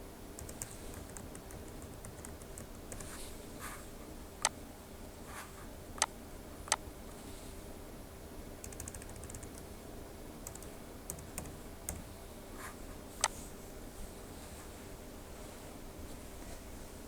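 Billing address being typed on a computer keyboard, soft steady key clicks with a few sharper, louder taps, faint and close in a quiet room with no talking.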